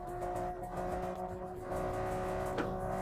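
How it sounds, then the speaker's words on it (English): A car engine hums steadily and rises in pitch as it accelerates in a driving video game fitted with a six-speed gearbox, loud and continuous, with one brief sharp transient. "You see, it still accelerates pretty well."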